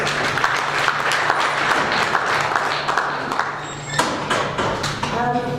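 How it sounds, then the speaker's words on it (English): Attendees at a Chinese–Zimbabwe workshop give a presenter a round of applause, a thick spread of clapping with a few sharper nearby claps and thumps, lasting several seconds alongside faint speech. "I think he really deserves another round of applause"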